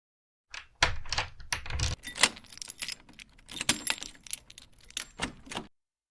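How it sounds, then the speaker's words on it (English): A bunch of metal keys jangles and clinks close up in irregular shaking bursts for several seconds, then stops into silence. "K for keys."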